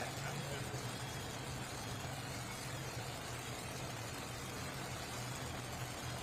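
The modified pulling tractor "Wild Hair" idles steadily after start-up at an NTPA truck and tractor pull at the NC State Fair, a continuous low engine drone with a loud, noisy crowd-and-PA wash over it.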